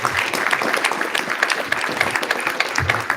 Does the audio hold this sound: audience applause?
yes